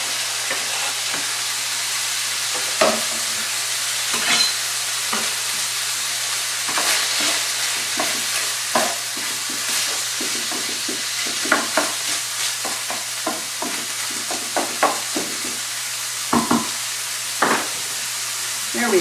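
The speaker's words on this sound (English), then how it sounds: "Now I'm going to add the onion and give it a good stir." Ground meat and onion fry in a pan for cabbage roll casserole, a steady close sizzle broken by repeated scraping stirs and clicks of the utensil, with no talk.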